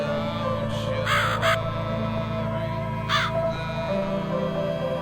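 Crow caws from the video game The Cat Lady ring out over a dark ambient drone: a faint call, then a loud double caw, and a lone caw later on.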